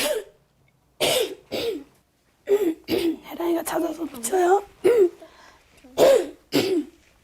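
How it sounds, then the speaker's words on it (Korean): A woman with a strained, weak voice coughs and clears phlegm from her throat in short bursts several times, with a few spoken words between them. "최근엔 목소리가 잘 나오지 않고 기침과 가래를 뱉어낼 때가 많다."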